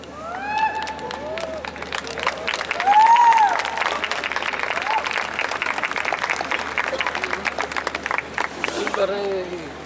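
Loud applause from students at a university centenary celebration in Lucknow, sustained clapping from a large crowd that swells and carries on while voices rise over it, tapering toward the end.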